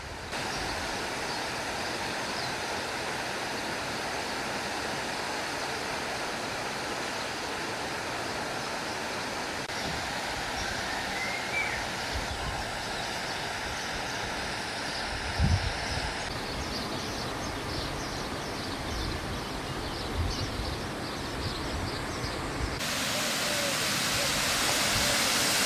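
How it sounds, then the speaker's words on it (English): A stream and waterfall rush steadily beside a flowered cliffside path in the Azores near Ponta Delgada, a continuous broadband roar of moving water that stays even throughout, with wind or nearby noise swelling toward the end. "So there's a stream down there, a beautiful path, lots of flowers."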